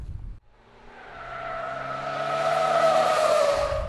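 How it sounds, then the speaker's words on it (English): Car tires hydroplane on a water-covered tire test course as speed rises, giving a loud, sustained rising hiss and squeal that builds steadily with no voices. "as we come through at increasing speeds, eventually the tires hydroplane and the car goes straight"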